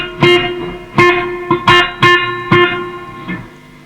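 Notes and chords played through a repaired Fender Twin Reverb amplifier, its reverb working again: five or six loud, spaced strikes, each ringing out in a lingering wash that fades before the next.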